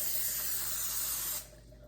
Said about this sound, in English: spray it down with our Pam Easy Cleanup Original Canola Oil Blend Spray